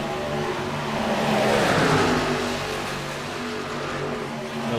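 Stock-car-style race cars in a racing video game at Kansas Speedway, a pack of engines roaring together, swelling louder in the middle as cars sweep past, then easing back to a steady drone.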